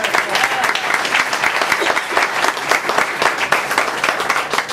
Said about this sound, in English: One more round of applause for all the comedians you saw this evening so far.